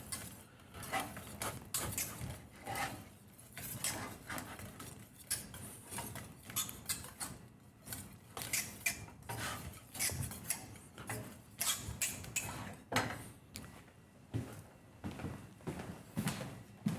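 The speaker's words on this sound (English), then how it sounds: "Whisk this, no heat." A whisk stirs coconut cream pie custard filling, made of pudding with vanilla extract and butter, off the heat. It gives steady, soft, rhythmic clicking and scraping against the bowl, continuous and fairly quiet, with no talking.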